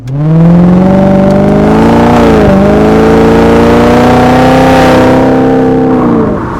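BMW E39 540i V8 wagon driving on the road, a loud steady engine drone with strong harmonics that rises gently as it pulls, dips briefly, then holds and eases off near the end.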